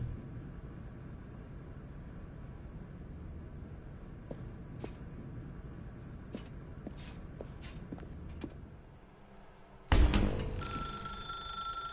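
An old-style telephone bell in a video game rings loudly and abruptly, with a bright, sustained jangle. It follows a quiet stretch of ambient hum and scattered soft footstep-like clicks.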